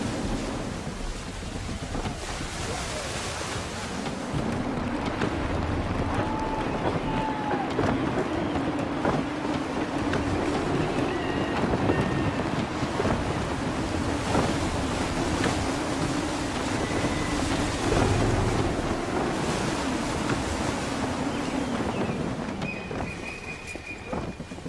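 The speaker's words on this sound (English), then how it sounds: "Gusty winds can be difficult to manage." Gusty wind and rolling ocean waves on the open sea in Assassin's Creed 3, a constant loud roar with surging swells, creaking and faint whistling tones, no talking.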